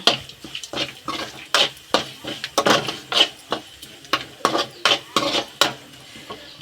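Small onions fry in a pan while a utensil stirs them, giving a steady run of close, rhythmic metallic scrapes and taps with a faint sizzle beneath, no talking.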